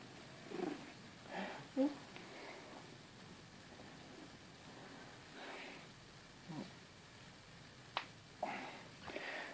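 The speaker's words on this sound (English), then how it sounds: "This cat." A cat purrs softly and close by, with a few faint rustles and small bumps scattered through otherwise quiet surroundings.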